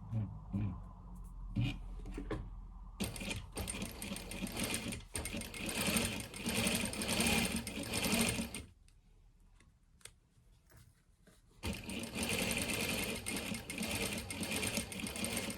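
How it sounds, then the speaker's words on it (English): A sewing machine runs a steady seam along a jet pocket line, its fast mechanical whirr continuing for several seconds, pausing briefly, then starting up again loud and close. "So you want to follow this line and sew along that line down towards the other end."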